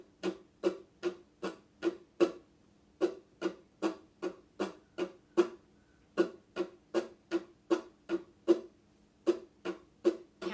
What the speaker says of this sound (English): I'm going to show you one other option for the standard strum pattern, and that is to have a strong down strum